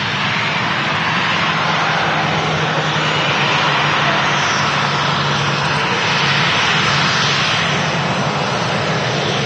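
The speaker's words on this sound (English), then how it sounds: "The A350-900 heading direct back to Singapore." A Singapore Airlines Airbus A350-900 at Manchester Airport roars with a steady, loud broadband jet engine rush that holds unbroken throughout, with no voices over it.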